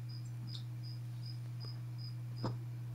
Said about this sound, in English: There's at least one cricket, and it's so loud and annoying, and it always picks up on his Discord mic.